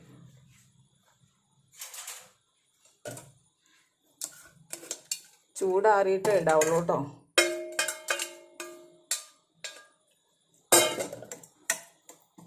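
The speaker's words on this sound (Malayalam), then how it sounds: "അത് നമുക്ക് മിക്സിയുടെ ജാറിലേക്ക് ഇട്ട് കൊടുക്കാം" Herbal ingredients, including plant roots for a hair-growth paste, are dropped into a mixer grinder jar, giving scattered close clinks, taps and clattering knocks while someone talks briefly in between.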